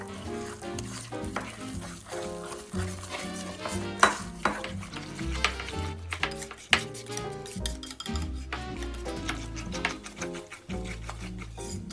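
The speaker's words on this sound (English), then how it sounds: "And stir it." A spoon stirs through a pizza dough mixture after salt is added, giving repeated close scraping and clinking against the bowl, busy and uneven with a few louder knocks.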